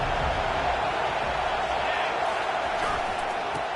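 Stadium crowd noise from a College Football 25 video game, Virginia Tech at Notre Dame, a broad continuous roar held steady at loud level throughout under a 3rd-down moment.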